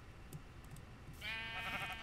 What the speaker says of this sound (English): Yes, pink sheep.